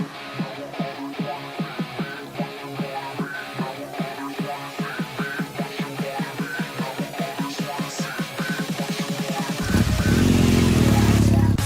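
A 1950 British Dot motorcycle engine, brought back to life after years of storage, chugs with rapid, even firing pulses, loud and close, then revs up into a steadier, louder roar near the end.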